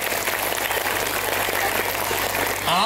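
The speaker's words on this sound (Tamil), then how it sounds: "மேடையில் ஏறிய அத்தனை குழந்தைகளுக்காக ஒரு அரங்கம் நிறைந்த கைத்தட்டல்" A packed auditorium at a CBSE school's annual day bursts into full, continuous clapping for the children who performed, loud and even throughout, with a brief voice at the very end.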